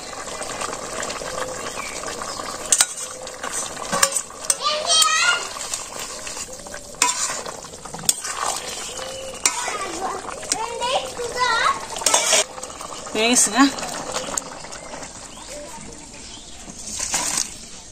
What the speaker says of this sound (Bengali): এই সে তরকারি গরম মশলা জিরে বাটা দিয়ে দিই